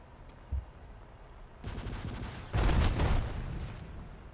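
Anti-aircraft fire in a flight combat game, heard as dense bursts of rapid gunfire, the second burst louder and heavier, rumbling for about two seconds before fading.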